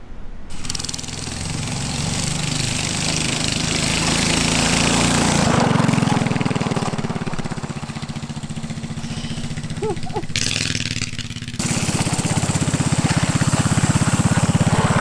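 A small engine on a homemade mini tank trike runs hard and loud throughout, a rough continuous drone whose pitch rises and falls as the throttle changes.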